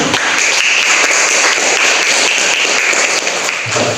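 A classroom of students applauding together, dense steady clapping at close range that holds evenly throughout before tapering at the end.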